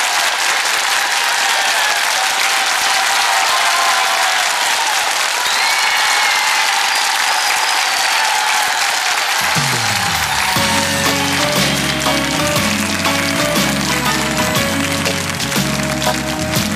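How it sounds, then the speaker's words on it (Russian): Audience applause at a live concert, dense loud clapping throughout, with the band starting to play beneath the clapping partway through. "Ваши аплодисменты, дорогие друзья."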